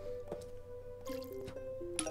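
Short liquid drips and squishy watering splashes from the Zen Garden in Plants vs Zombies, scattered over a soft game music bed, a few close, bright droplet plinks spread across about two seconds.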